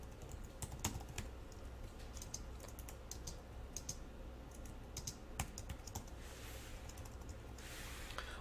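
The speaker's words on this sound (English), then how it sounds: "I start typing the next line of code" Code being typed on a computer keyboard: a steady run of light, quick key clicks with occasional louder strokes, close and alone against a soft room hum.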